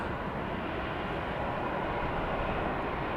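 An Embraer Phenom 300E jet landing at Dallas Love Field at night, heard as a steady, distant broadband engine roar with no distinct peaks.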